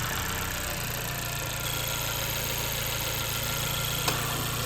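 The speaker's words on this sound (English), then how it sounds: "So this is the sound of the engine with the new intake." A 10th-generation Honda Civic 1.5 turbo with a new Injen intake idles steadily with a low, even rumble and faint mechanical hum, ending with a brief click.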